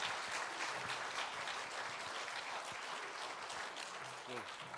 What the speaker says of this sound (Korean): 우리 격려하는 박수로 드리겠습니다.